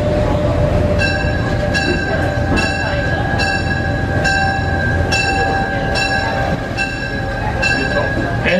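A Greenfield Village passenger train rolling toward Smith's Creek Station, with a steady loud rumble, rhythmic wheel clacks and a sustained tonal whine close by throughout.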